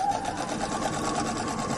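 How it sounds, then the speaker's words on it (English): A sewing machine stitches down and up the sides of fabric V shapes while quilting, its needle clattering in a fast, even rhythm at close range with no voices. "So I'm just stitching down one side, turning it, stitching up the other side."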